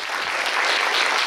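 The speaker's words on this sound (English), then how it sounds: "Round of applause." Audience at a startup competition finals claps after a pitch presentation, a dense, even wash of applause from a crowd, sustained at steady loudness throughout.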